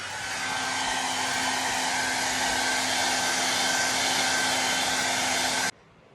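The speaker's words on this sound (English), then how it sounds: "Now I'm going to dry this using a hair dryer." A hair dryer drying paint blows at full power, a loud steady whirring drone with a faint whine that runs several seconds, then cuts off abruptly.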